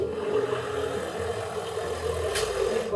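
A boat's engine drive runs with a steady whirring drone and an odd mid-pitched hum, heard up close from the engine room, with no talking.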